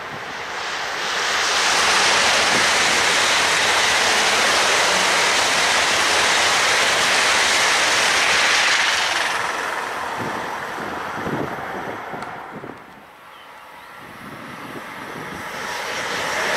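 A loud, broad rushing roar builds and sustains for several seconds as two ICE 2 high-speed trains pass near Althengenberg, then fades away, leaving quieter rumbling and wind behind.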